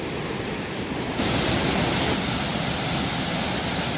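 Hemlock Falls, a waterfall on Moccasin Creek in Moccasin Creek State Park, northeast Georgia, roars as a loud, close, continuous rush of falling water with no voices.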